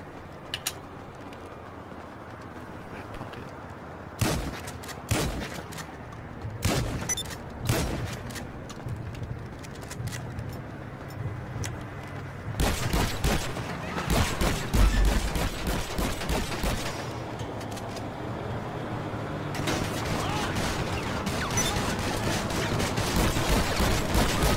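Shotgun gunfire in a multiplayer shooter game: scattered sharp, loud blasts at first, then dense bursts of rapid shots in clusters, with background game noise between them.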